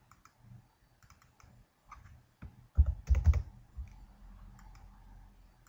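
Clicking and typing on a computer keyboard while payments are entered into preschool financial software, with irregular clusters of key taps and a louder burst of rapid keystrokes midway, close to the microphone and with no talk.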